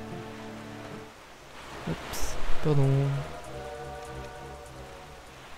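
Steady rain falls across an island in The Legend of Zelda: The Wind Waker HD, a constant hiss beneath game music, with a brief voice speaking partway through.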